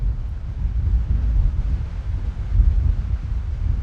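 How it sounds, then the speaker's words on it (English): Steady wind blowing across an open stubble field on high ground, a continuous low rumbling buffet with gusts swelling and fading, loud and close with no other sounds. "It's now got more of the wind, but it's very windy today."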